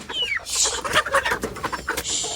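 Short chirping and clucking calls come from farmyard chickens, brief and close, with a few sharp peeps in quick succession.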